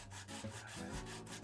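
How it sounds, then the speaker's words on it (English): Steady abrasive rubbing and scraping as a copper pipe is sanded to remove dirt and oxidation, close up, with a repeated back-and-forth rasp on a hard surface. "I'm sanding the pipe to remove any surface dirt and oxidation."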